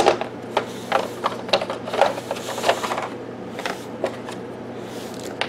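Cards and playing pieces from The Reckoners board game are handled and shuffled out of the box, a run of soft papery riffles and light clicks over a steady low hum, close and moderately loud.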